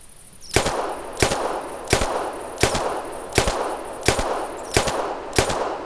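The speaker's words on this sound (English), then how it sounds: "let's fire some shots, see what it sounds like" Eight evenly spaced gunshots from a 10mm semi-automatic pistol in theHunter video game crack out loud and sharp, roughly one every 0.6 seconds, each leaving a brief ringing tail.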